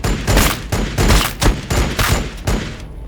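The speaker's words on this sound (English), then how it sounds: "Alright, assault marines. Take them out with the bolt pistols." Bolt pistol gunfire from assault marines in the Warhammer 40,000: Battlesector strategy game, a rapid run of loud, heavy bursts repeating in a steady volley rhythm with no talking.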